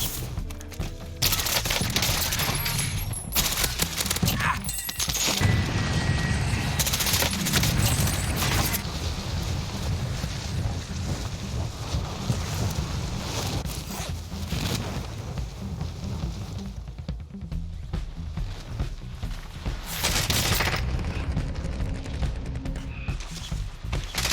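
Sustained, dense gunfire from an Asval rifle fills a Call of Duty Warzone match, with loud continuous bursts and booms and a few brief lulls, close and noisy throughout.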